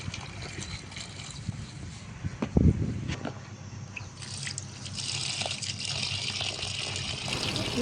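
Sorghum grains being washed in water at home, with soft drips and trickles, a brief louder splash near the middle, then steady sloshing of water.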